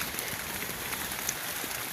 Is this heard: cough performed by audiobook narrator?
no